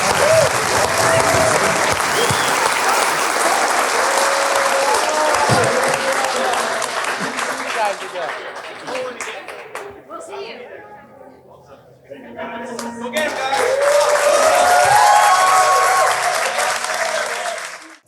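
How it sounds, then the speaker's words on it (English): Audience at a live music show applauds a band with loud, sustained clapping and some cheering, easing off midway and then swelling again near the end, with voices talking in the room. "So, round of applause for the guys there."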